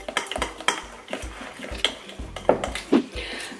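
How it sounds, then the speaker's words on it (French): Spoon stirring an avocado and aloe vera hair mask with drops of flax protein in a bowl, giving intermittent clinks and scrapes at close range in an irregular rhythm. "Je vais commencer à bien mélanger le tout."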